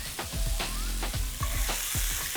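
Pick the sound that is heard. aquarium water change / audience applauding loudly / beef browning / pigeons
beef browning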